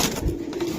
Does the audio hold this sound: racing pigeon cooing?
yes